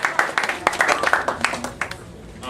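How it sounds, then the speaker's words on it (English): Sparse applause from a small group comes through as a brief run of distinct, uneven claps at moderate distance, with some speech mixed in. "give her a round of applause"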